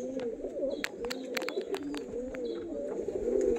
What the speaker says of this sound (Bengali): দেখো কত সুন্দর স্ট্যান্ডিং কোয়ালিটির পায়রা আছে